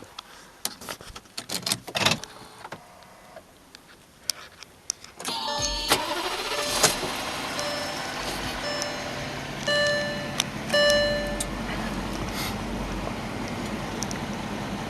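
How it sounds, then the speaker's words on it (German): A VW Touareg V10 TDI diesel with 350 PS starts after some handling clicks, then settles into a loud, steady idle with a deep rumble and faint intermittent beeps. "Hört ihr das Dieselmonster schnorren?"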